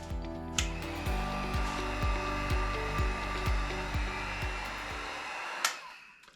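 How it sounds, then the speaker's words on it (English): A heat gun runs steadily and loudly while warming a decal on a mountain bike frame, a continuous blowing whir with a faint rhythmic pulsing, cutting out near the end. "use either a heat gun or a hair dryer"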